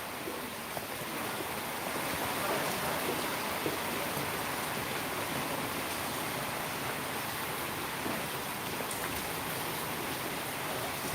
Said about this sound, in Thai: ไปไม่ได้ครับฝนมันตกครับ